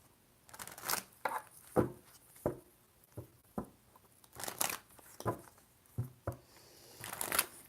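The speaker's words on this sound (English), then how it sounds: "Just let me shuffle, okay?" A deck of oracle cards is shuffled by hand close up, with a series of separate riffles and flicks in uneven bursts and short quiet gaps between them.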